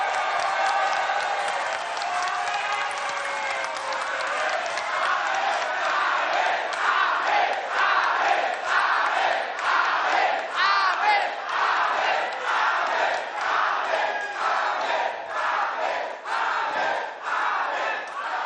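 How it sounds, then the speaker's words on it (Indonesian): A large audience at a political gathering stands to applaud the presidential and vice-presidential candidates, giving sustained, loud clapping with rhythmic waves and cheering that lasts well over fifteen seconds. "Kita berdiri memberikan aplaus kepada mereka berdua."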